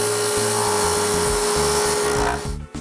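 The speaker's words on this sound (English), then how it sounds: "On the half-round piece, I sand the edge round" Power sanding rounds over the edge of a half-round wooden piece, a loud steady buzzing grind running continuously and close by, cutting off near the end.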